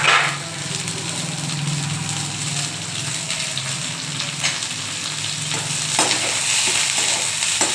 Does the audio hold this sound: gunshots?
no